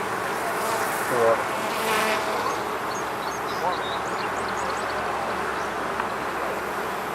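Honey bees hum in a steady, soft drone around an opened hive during a brood inspection, with faint voices talking in the background.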